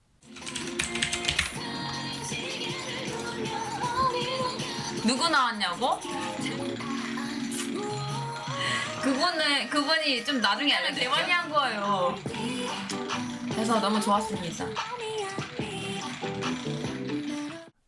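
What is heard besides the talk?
rattling electric fan picked up by a Blue Yeti microphone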